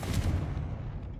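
In Hogwarts Legacy, a Confringo fire spell is cast, releasing a short, heavy fiery blast that booms and fades within about a second.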